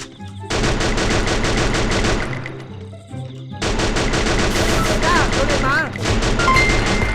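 Rapid automatic gunfire from the Free Fire mobile game rattles in loud sustained bursts, pausing briefly around the middle before another long volley, with short electronic game tones mixed in.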